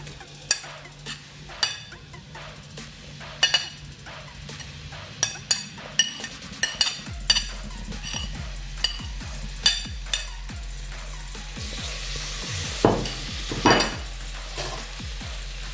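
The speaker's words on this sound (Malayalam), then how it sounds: "ഇതിലേക്ക് നമ്മൾ നേരത്തെ റെഡിയാക്കി വെച്ചിരിക്കുന്ന ഉള്ളി, സവാള, ഒണിയൻ അതിലേക്ക് ഇടുക." Onions dropped into hot oil and sautéed in a pan for Andhra mutton curry, a low sizzle with repeated clinks and scrapes of a spoon against the pan, growing busier toward the end.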